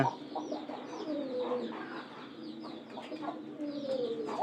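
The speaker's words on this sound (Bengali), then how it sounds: "এই যে এখানকার ডাকতেছে না" Pet pigeons coo repeatedly close by in their new loft, soft rolling calls overlapping in an uneven rhythm with no talk.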